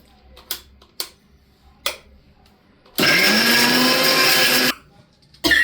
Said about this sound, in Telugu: పచ్చిమిర్చి, కొంచెం సాల్ట్, ఇవన్నీ వేసి మిక్సీ పట్టుకోవాలి.